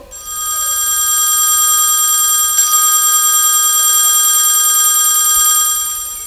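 A telephone rings in a Bengali jatra stage play just before a call is answered, a continuous bright electronic trill held loud and steady for several seconds before fading out.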